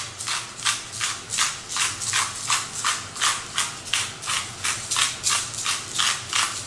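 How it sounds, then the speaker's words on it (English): A hand pepper grinder cracking fresh pepper over food prep, about fourteen evenly spaced crunchy ratcheting twists in a steady rhythm, close and clear with no talking. "freshly cracked pepper is always better"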